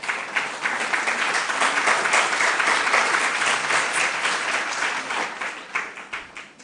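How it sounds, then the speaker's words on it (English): Audience applause for contestants at a school quiz competition, a dense steady clapping from a crowd that holds for several seconds and then tapers off toward the end. "Round of applause to the contestants."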